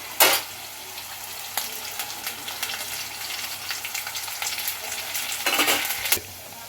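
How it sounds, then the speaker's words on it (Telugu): Peanuts and curry leaves crackle and sizzle in hot oil for a tempering, with a steady frying hiss and a few louder bursts as ingredients hit the pan and get stirred; no talking. "అలాగే కొంచెం కరివేపాకు వేసుకుంటున్నా"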